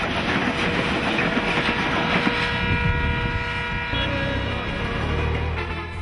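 A train running at speed with a loud, continuous rumble and rattle of wheels, steady throughout, with a low droning tone in the latter part.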